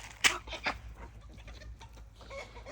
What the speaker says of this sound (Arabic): تربية الدجاج العرب، الكويتي الأصلي والعراقي الأصلي والسعودي